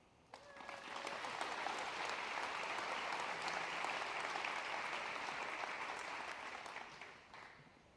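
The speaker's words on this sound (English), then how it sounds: "One more big round of applause for all of the students and the educators." An audience at a school award ceremony breaks into sustained applause, a dense wash of many hands clapping that swells quickly, holds steady for several seconds, then tapers off.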